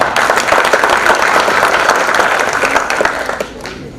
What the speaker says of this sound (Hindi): 19, जोरदार ताली